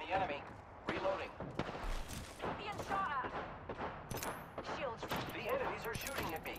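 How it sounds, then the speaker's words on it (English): Gunfire in the video game Apex Legends, rapid bursts of shots and sharp cracks scattered throughout at moderate level, mixed with clanks and in-game voice lines. "Opening fire on the enemy."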